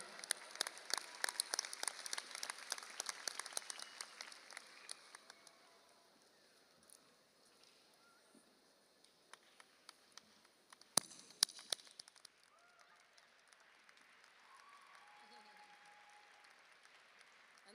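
Applause from a high school graduation audience after the choir's performance: dense clapping at first that thins out and dies away, leaving scattered claps, faint room noise and a brief murmur of voices.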